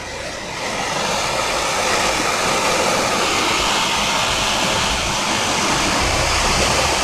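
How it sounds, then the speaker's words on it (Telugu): Small roadside waterfalls in Goa, swollen by monsoon rain, make a loud, continuous rushing wash of water that stays steady throughout, with no speech. "పిల్ల జలపాతాలు చూడండి"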